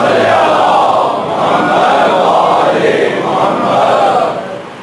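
A large gathering at a religious recitation event in Lahore chants salawat aloud together, a loud, sustained wash of many voices rising and falling in waves and fading slightly at the end.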